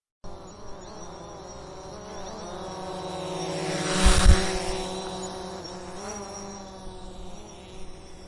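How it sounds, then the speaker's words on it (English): Drone motors whirring in the wild Andes, a steady buzzing drone that swells to a louder peak midway as if passing near, then fades back to a distant hum, with no voices. "The distant whir of drone motors blends with the natural sounds of the wild Andes"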